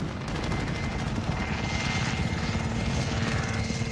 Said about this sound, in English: The helicopter's fucking with them, though.